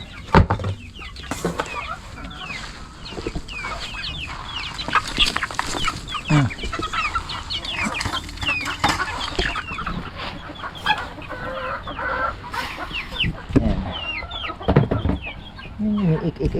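Several ducks quack and squawk in repeated bursts close by, calling over one another with little pause.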